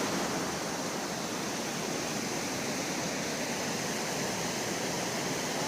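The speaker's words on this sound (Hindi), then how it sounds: "ये देख सकते हैं, ये है वाटरफॉल।" Water pours down a highway waterfall in Hyderabad as a steady, even rush of broadband noise, constant and unbroken with no voices.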